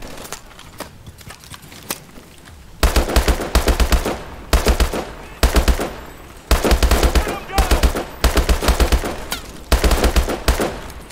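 Bursts of machine gun fire in Call of Duty: Advanced Warfare, fast, loud rattling volleys broken by brief pauses, with sparser single shots at the start.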